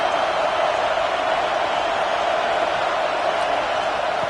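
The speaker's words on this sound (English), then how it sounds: "Listen to the crowd energy here in the early going." A football stadium crowd at a game against Alabama, a steady, dense roar of many voices filling the air without a break.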